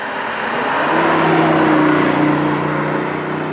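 A BMW i8 hybrid sports car cruises at normal speed, its engine a smooth, steady hum that swells slightly and holds a sustained tone, heard from inside without talk.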